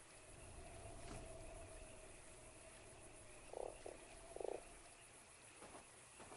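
A frog in the game Fran Bow gives two short, gurgling croaks a second apart over a dim, murky ambient drone, with no talk.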